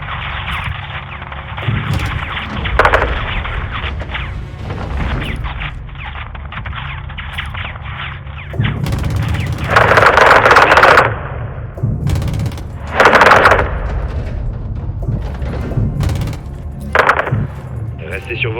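Gunfire rattles through a Call of Duty MW2 campaign battle, with sustained automatic bursts and louder volleys mixed with game soundtrack, and voices speaking French over the shooting.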